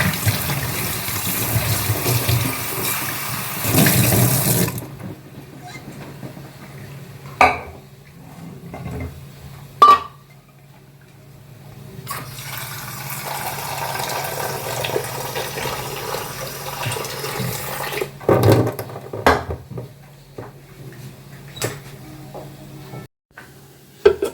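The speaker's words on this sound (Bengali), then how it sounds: "নতুন কুকারটা নিয়ে একটু ধুয়ে নিয়ে এটা সেদ্ধ করতে বসছি।" Water from a tap rushes while a new pressure cooker is washed, loud splashing at first, then quieter intervals broken by metallic clanks of the cooker and utensils.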